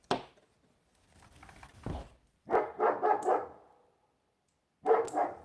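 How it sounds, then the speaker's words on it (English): A dog named Duke barks close by, with a few scattered yips and then two bursts of rapid barks separated by short silences. "Don't bark down this way."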